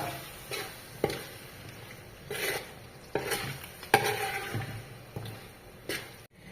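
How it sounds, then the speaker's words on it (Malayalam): Cooked plantain stirred into thick kalan paste in a pan, giving repeated scraping strokes of a spoon against the metal with faint sizzling between them, close and uneven in rhythm. "അതിലേക്ക് വേവിച്ച് വെച്ചിരിക്കുന്ന കായ ഇടുക. എന്നിട്ട് നന്നായിട്ട് ഇളക്കുക."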